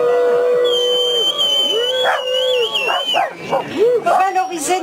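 A dog howling and yipping close up, a long rising and falling howl followed by a string of quick, wavering yelps and whimpers, with a human voice mixed in underneath.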